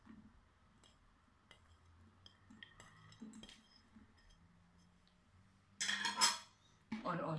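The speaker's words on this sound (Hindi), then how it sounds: "बाउल में एग्स डालें और साथ में मेयोनेज़ डाल के इसको मिक्स करें" Eggs, mayonnaise and shredded chicken mixed in a bowl for a sandwich filling, heard as faint scattered clinks at first, then louder bursts of a utensil scraping and clattering against the bowl near the end.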